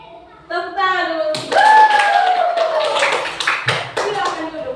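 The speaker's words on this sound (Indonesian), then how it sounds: "Tepuk tangan dulu." Several people clap together in a classroom training session, a short burst of claps that sits under loud talk and voices.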